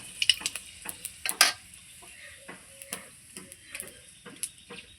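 Bay leaves and panch phoron seeds dropped into hot oil for a Bengali fish curry with bottle gourd give a light, crackling sizzle with scattered sharp pops and ticks, close and fairly quiet, no talking.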